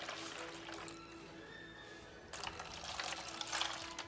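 Wine and melted butter are poured into the bottom of a turkey roasting pan, a soft, close liquid trickle and splash that pauses briefly and resumes, quiet and without talk.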